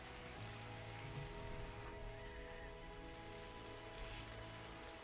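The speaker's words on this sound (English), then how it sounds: "It's the rain mixed with the sounds I'm not used to." Rain falls steadily in a video game, a constant, soft hiss of drops on surfaces with no pauses and no talking.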